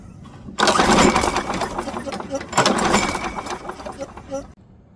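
Someone pulls the starter rope on a Coleman Powermate PM 1500 generator twice, each pull giving a loud, close, rattling burst as the engine turns over without starting. A voice speaks between the pulls.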